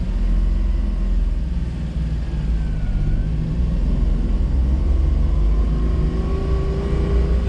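A kei van with a heavy clutch and no power steering pulls away, its small engine droning in a loud, steady cabin rumble that rises slightly as it accelerates. No one speaks.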